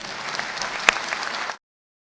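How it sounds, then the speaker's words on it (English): Brief applause from a modest audience at a soccer club's coach introduction press event, steady clapping under a second and a half with one sharper clap, then cut off abruptly. "you can clap, go ahead."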